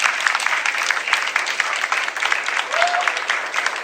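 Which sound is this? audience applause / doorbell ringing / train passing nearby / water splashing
audience applause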